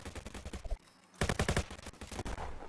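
Gunfire in the online shooter Venge.io: dense, rapid bursts of shots that stop for a brief gap, then resume loud and continuous.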